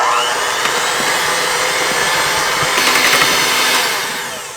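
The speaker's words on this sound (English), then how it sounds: "Then just mix this all together with your hand mixer again until well combined." Electric hand mixer beating keto lasagna filling seasoned with onion powder in a bowl, a steady, close, high whirring motor that runs alone for several seconds before tapering off.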